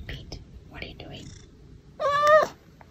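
A pet cat meows in a short, loud, tonal burst near the end, preceded by soft indoor murmuring and faint voices.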